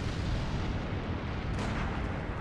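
A pistol shot in the dark-fantasy video game Bloodborne, fired during a boss fight, sounds as a dense, roaring burst of gunfire noise that fills the whole stretch without a break and with no talking.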